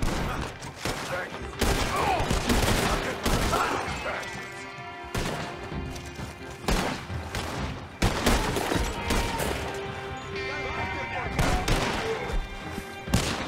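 Gunshots in the Red Dead Online video game, a series of loud sharp blasts at irregular intervals with crashing echoes and ringing tails between them, close and prominent.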